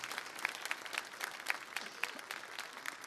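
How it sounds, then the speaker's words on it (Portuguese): A church congregation applauding during a service, a faint, fairly distant mass of clapping with some sharper individual claps standing out. "Aplauda isto que você pede ao Senhor."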